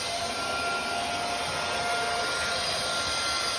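A Numatic 440NX scrubber dryer runs with its suction motor on, giving a steady, loud broadband whine and rush that holds unchanged throughout with no talk.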